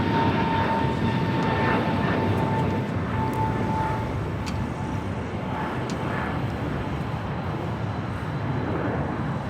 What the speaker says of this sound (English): Should be the next heavy takeoff on 25 right